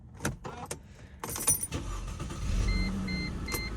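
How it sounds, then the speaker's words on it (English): Inside a 2006 Mercedes-Benz C230, a few clicks and jingles, then a faint buzzing chime pulses as the key is inserted, quietly repeating. "it'll make this weird buzzing noise when you insert the key"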